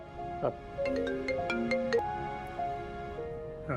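A mobile phone ringtone plays a short melodic tune of tonal electronic notes, close and clear, in a rising and falling pattern that carries on through the whole stretch.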